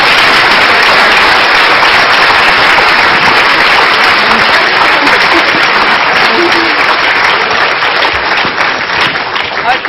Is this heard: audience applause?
yes